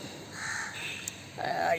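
Crows caw while feeding outdoors, a couple of harsh calls heard faintly under a person's talking.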